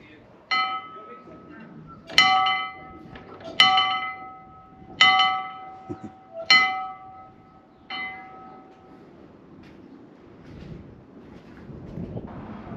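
A bell in an old ghost-town building with stained glass windows, rung by pulling its string, strikes five times in a steady rhythm, each loud ringing clang decaying, with breezy wind noise between and after.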